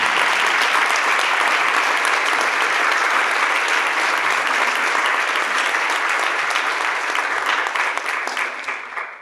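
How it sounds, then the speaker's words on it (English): A standing audience applauds Cia Cambona with steady, dense, loud clapping that holds for several seconds, then begins to fade near the end. "Just give a round of applause for them."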